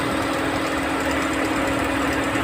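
A 1994 Citroen AX runs at idle with a steady, continuous low engine drone and a faint rattle, even and unbroken throughout with no voices.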